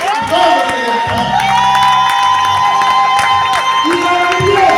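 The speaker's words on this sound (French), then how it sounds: "Et puis donner encore une fois d'acclamation." A church congregation at a Sunday prophetic worship service cheers and acclaims loudly, shouts and whoops overlapping with sustained voices and some clapping, close and continuous.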